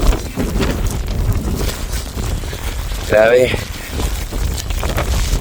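Steady wind blowing during snowfall in Denmark, a broad continuous rush close to the microphone, with a voice speaking briefly over it.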